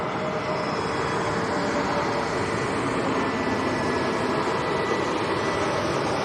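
An EasyJet airliner arriving at Lanzarote Airport, a steady loud broadband roar of engines holding constant throughout with no talk over it.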